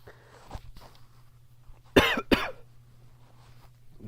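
Two sharp coughs in quick succession, close and fairly loud, over a low steady hum with faint background noise.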